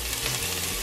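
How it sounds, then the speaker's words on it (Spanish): Garlic and ginger fry in hot sesame oil, giving a steady, close, even sizzle throughout with no talking. "Una vez caliente el aceite, vamos a echarle el ajo, el jengibre."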